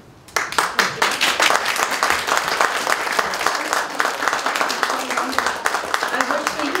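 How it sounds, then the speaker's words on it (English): Sustained applause from a lecture audience after a talk on Chinese communities in Chicago, dense clapping starting abruptly and holding steady at a moderate level throughout, with no speech over it. "Let's give her another round of applause."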